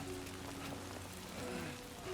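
Steady rain falling on surfaces in the video game Death Stranding 2, a dense even hiss with soft patter, continuous and alone with no voices.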